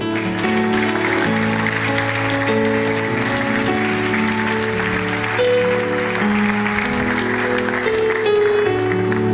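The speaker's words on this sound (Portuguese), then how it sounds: "Aplauda o Senhor." Congregation applauding during a New Year's Eve church service, clapping continuously under loud sustained music for several seconds.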